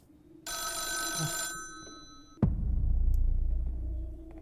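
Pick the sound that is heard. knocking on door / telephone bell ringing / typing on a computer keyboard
telephone bell ringing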